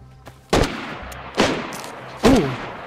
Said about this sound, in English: I'm just shooting zombies.